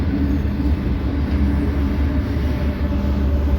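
A northbound freight manifest train on the Sioux City sub rumbles past at a steady, constant loudness, its deep rolling drone and wheel clatter continuous and unbroken.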